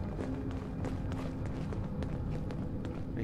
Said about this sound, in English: Man, hearing those footsteps is driving me nuts.